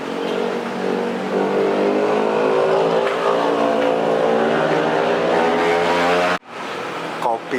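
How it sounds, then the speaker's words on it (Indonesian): A garbage truck drives by at a hill resort in Puncak, Bogor, its engine a loud steady drone with rising revs that cuts off sharply near the end, followed by fainter traffic. "Truk sampah."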